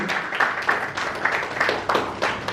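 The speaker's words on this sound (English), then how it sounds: "Please let's give a hand of applause to Nana Joa." An audience at a watch-brand speaker talk applauds a guest, with clapping rising in repeated swells over a couple of seconds, fairly close and mixed with a murmur of crowd sound.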